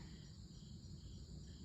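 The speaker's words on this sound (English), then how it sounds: "You got the birds, you got the crickets" Crickets chirp outdoors at dawn in a steady, faint, high-pitched chorus, quiet and continuous with no voices.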